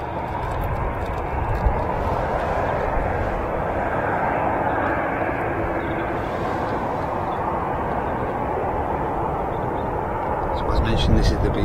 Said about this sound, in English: British Airways A320 on short final here at Manchester